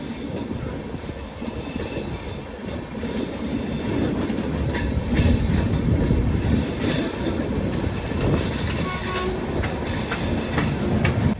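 An Amrit Bharat train on the Thiruvananthapuram to Mangaluru run rounds a curve on the approach to Kollam Junction, with a steady, loud rumble of wheels and rattling coaches and faint wheel squeal throughout.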